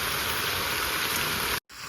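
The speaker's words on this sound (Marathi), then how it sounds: "तर आता ह्याच्यात पाणी घालूया." Water pours into a pot of Malvani masala in oil, a dense, steady rushing splash that cuts off abruptly near the end, then a softer sizzle resumes briefly.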